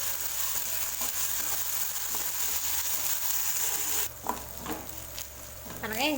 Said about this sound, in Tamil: இஞ்சி பூண்டு பேஸ்ட் சேர்த்துட்டு நல்லா மிக்ஸ் பண்ணி நல்லா வதக்கி விட்டுக்கிட்டேன்.